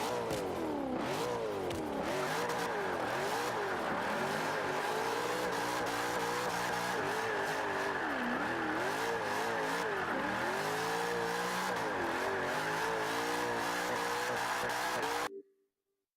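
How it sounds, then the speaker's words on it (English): A Nissan Fairlady Z fitted with a V8 engine in rear-wheel-drive drift setup in Forza 5 revs hard and steadily, the engine note rising and falling in repeated sweeps with tire squeal, loud and continuous before cutting off at the end. "let's see what it drifts like and see what that V8 sounds like"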